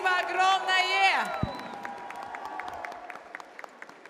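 At a wedding ceremony during a festival, music ends and audience applause follows as scattered, moderate clapping under room noise, with a voice speaking over it.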